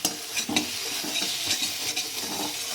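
Masala frying in oil in a pan over medium heat for a vegetarian cabbage kofta curry, a steady close sizzle broken by repeated scraping stirs and light utensil clinks.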